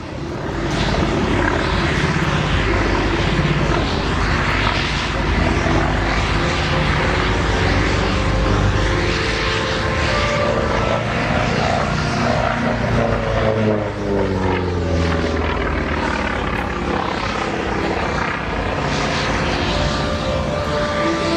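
A Grumman Wildcat fighter powered by an air-cooled 1350-horsepower Wright R1820 radial engine flies at Duxford. Its loud, throaty propeller drone swells and shifts in pitch as it passes, continuous and unaccompanied by voices.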